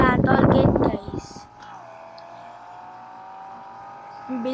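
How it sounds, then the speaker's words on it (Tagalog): A fast car accelerates in the mobile driving game Car Parking Multiplayer on a mountain road trip, its steady engine whine rising in pitch and holding after a burst of talk at the start. "Ang bilis na sasakyan na to guys"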